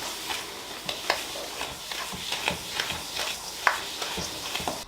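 Vegan cake batter with chestnut purée is stirred in a bowl, making a steady run of soft scraping and tapping strokes at close range. No one speaks.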